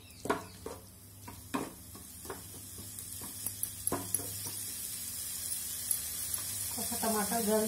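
Chopped tomatoes tipped into a pan of frying mustard-based drumstick and potato curry, giving a series of soft thuds and scrapes of stirring over a low, steady sizzle.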